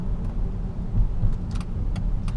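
A 2005 Mercedes C320 CDI T Avantgarde diesel estate with a 7G-Tronic automatic pulls away hard, its engine a loud, steady low drone from inside the car with a few faint clicks and rattles.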